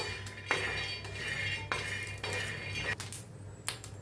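A metal spoon clanks and scrapes against a pan as chilies, peanuts and garlic are stirred and dry-roasted, giving several distinct knocks over a low, steady background hum.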